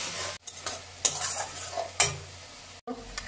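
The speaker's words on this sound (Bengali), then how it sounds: "পেঁয়াজ ভালো করে ভেজে নেব।" Chopped onions frying in a pan for a Bengali mutton curry, an even sizzle punctuated by brisk stirring strokes and brief spatula scrapes, with short pauses where the sound drops out.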